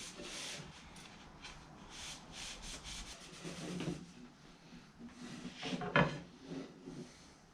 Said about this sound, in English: Put it on following the wood grain, and you wipe it off any which way you'd like.